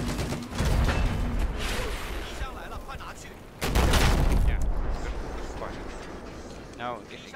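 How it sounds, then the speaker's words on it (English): Video game gunfire arrives in heavy bursts: a loud volley at the start and another around the middle, with rattling and scattered shots in between. Voices talk over the shooting. "I'm getting shot at"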